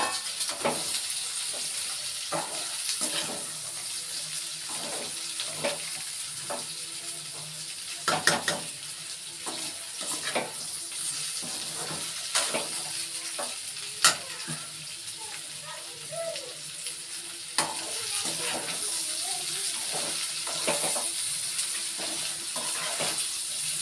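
Okra pieces frying in a little oil, a quiet, steady sizzle running throughout with occasional sharp clinks of a utensil against the pan.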